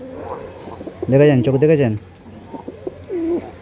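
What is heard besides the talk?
cooing racing pigeons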